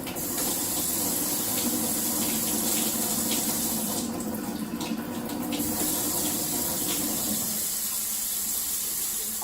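Water pours steadily from the tap of an alkaline water ionizer machine, a continuous hissing splash that runs for most of the clip before easing off near the end, with no talk.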